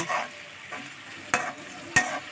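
Semolina is stirred and fried in a pan, a close sizzling hiss broken by a few scraping strokes of the spoon, with no talk over it.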